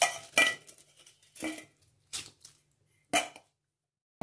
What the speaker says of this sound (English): Now I have added the basmati rice into it.